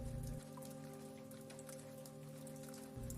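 Steady rain falling outside, a soft constant patter of raindrops on surfaces, faint and even, over a low rumbling hum, with no voices.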